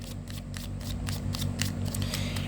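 Tarot cards being shuffled by hand, a run of quick crisp riffling flicks in a steady rhythm, close and moderately loud over a low background hum.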